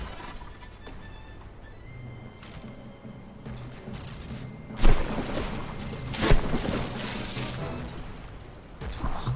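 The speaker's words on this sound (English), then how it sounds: "Explosions everywhere." Several booming explosions burst out amid constant rumbling battle noise in the game From The Depths, a battleship fight, with two heavier blasts standing out in the second half.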